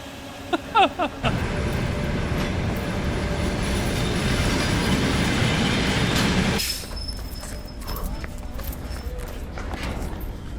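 A train on the Baikal-Amur Mainline rolls into Taishet station in Siberia loudly with rumbling wheels and metallic squealing for several seconds, then settles into quieter, sparse clanks.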